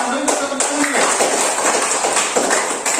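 Children in a classroom do a rhythmic group spirit clap, a steady run of dense claps and chanting voices through the clip, fairly loud and close.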